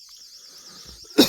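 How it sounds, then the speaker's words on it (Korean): A single sharp cough bursts out near the end, after a stretch of quiet room tone. "저는 이제 잠깐 이제 기침을 한 건데"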